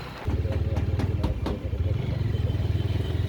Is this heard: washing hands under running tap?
no